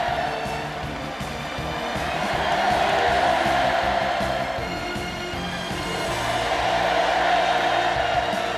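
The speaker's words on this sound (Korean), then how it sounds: "소년단원들의 끓어오르는 감격이 만세의 환호성으로 세차게" A large crowd of children cheers hurrahs at a commemorative rally, a sustained roar of voices swelling and easing in waves, loud and continuous.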